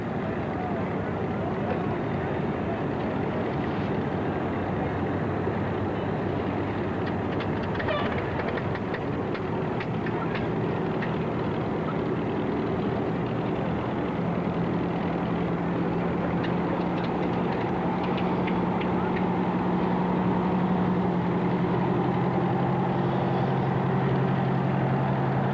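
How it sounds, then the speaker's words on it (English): A Beechcraft Baron twin-engine plane runs steadily after start-up at an airfield, a continuous engine drone with a low steady tone emerging later, heard from nearby alongside constant broadband noise and some talk. "Beach Baron has started up behind us."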